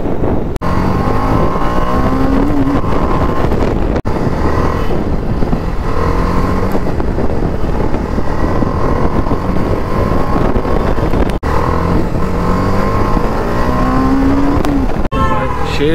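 Two motorcycles, a KTM Duke 390 and a TVS Apache RR310, drag race side by side, their exhausts roaring loudly and continuously throughout with a rough, wind-buffeted drone and no pause.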